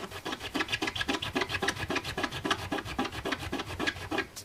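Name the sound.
rubbing a rubber stamp with Stazon ink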